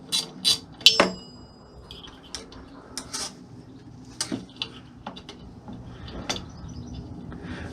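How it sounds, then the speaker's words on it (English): An 8mm bolt on the horn of a Honda NT1100 motorcycle is undone with a tool, giving a few sharp close metallic clinks and taps spaced irregularly, with softer ticks and quiet handling noise between. "Right, let's undo that bolt. It looks like an 8mm."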